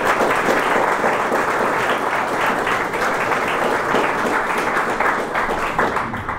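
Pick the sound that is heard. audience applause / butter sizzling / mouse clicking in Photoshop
audience applause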